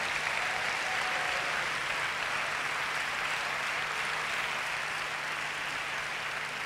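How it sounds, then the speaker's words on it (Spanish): Audience applause after a Rock Choir performance in Alcorcón, a dense continuous patter of many hands, fairly soft and distant, steady for several seconds with no voices over it. "Así que un fuerte aplauso para ellos."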